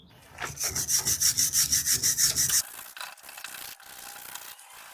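A brush or scraper rubs crud off a dumper part in about a dozen quick, rhythmic strokes, loud and close, then gives way to quieter scuffs and knocks with no talking.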